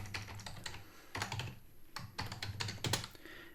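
Rapid keystrokes on a computer keyboard while Rust code is written, a steady run of close clicks in irregular bursts with short pauses, no voices.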